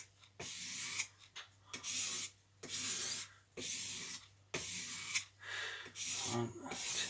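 Kitchen knife drawn repeatedly along a sharpening steel or stone, producing loud rhythmic rasping strokes, each about a second long with short gaps, close up and without talk.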